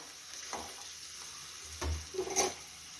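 Masala spices for a potato rassa curry frying in oil, a soft steady sizzle with a few scraping stirs of a spoon against the pan, close and moderately quiet.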